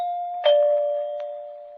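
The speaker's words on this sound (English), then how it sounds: "take a running start to press the doorbell" A two-tone doorbell chime rings once, clear and close, its tones sustaining and slowly fading in a quiet room.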